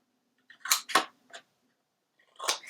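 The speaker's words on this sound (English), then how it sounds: "where'd my scissors go? Okay, so we're going to cut out" Scissors snip through paper corners while an album is being made, with three quick cuts in a row, a short pause, and then one more close, crisp snip.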